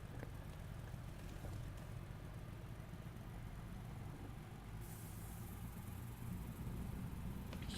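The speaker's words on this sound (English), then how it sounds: "You can hear the engine there." A SISU M-Series truck engine drones steadily in Euro Truck Simulator 2, a low, even rumble that is quiet and constant throughout, with a faint hiss shift partway through and no talking.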